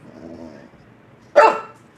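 A single sharp dog bark rings out close by after a low growl, then quiet.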